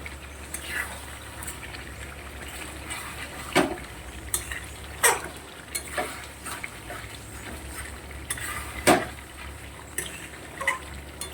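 Chicken meat being stirred and fried in a pot, with a steady sizzle and several sharp clinks and scrapes of a utensil against the metal at irregular intervals, close by and with no talk.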